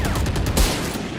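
Rapid volley of video game gunfire, dense overlapping shots with a louder burst partway through, steady and close with no talk.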